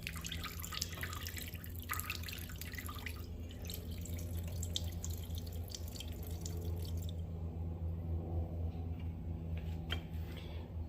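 Coolant water dripping and trickling on a Harbor Freight band saw, a faint continuous watery patter with scattered drips over a low steady machine hum.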